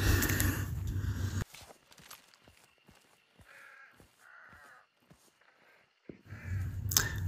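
Several crows caw in short bursts at a moderate distance in the video game Hunt: Showdown, with soft rustling and footsteps between calls and louder noise at the start and end.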